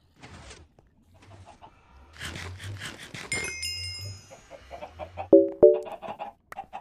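Chickens clucking in a Minecraft modpack farm, several short game-audio clucks and squawks spread through the clip at moderate loudness, with a brief chime-like tone and a couple of sharp louder clicks near the end; no talking.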